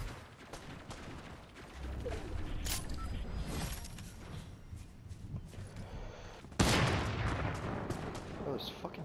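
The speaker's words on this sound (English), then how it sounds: "Oh, he's getting shot at." Gunfire in a castle-area battle video game, scattered shots and bursts with a loud blast near the end, dense and busy, with people talking over it.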